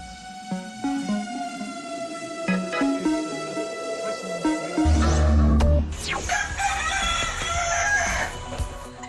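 A small ornamental chicken crows repeatedly, shrill harmonic calls followed by a louder, fuller crow near the end, close and clear with no talk.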